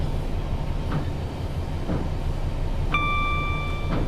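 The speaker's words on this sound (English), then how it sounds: "the big pink train will take your head off" A big pink train passes on a Glasgow route in the Train Sim World video game, giving a steady, loud rolling rumble throughout, with a brief bright two-tone chime near the end.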